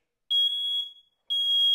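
A household smoke detector alarm sounds two sustained high-pitched beeps, each nearly half a second to a second long with a short gap between, set off during a home smoke test. The beeps ring loud and alone, with no talk.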